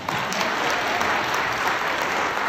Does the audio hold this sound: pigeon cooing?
no